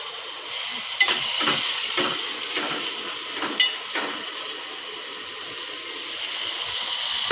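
Onion fries in a pan with a steady close sizzle, broken by several clinks and scrapes of a spoon stirring it.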